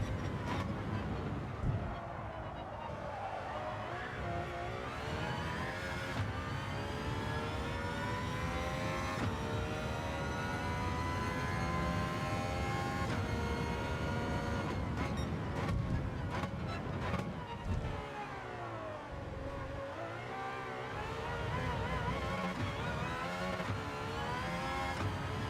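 Race car engine in a racing video game, accelerating and shifting through 3rd gear around turn 1, with rising and falling revving whines sweeping up and down continuously, loud and up front.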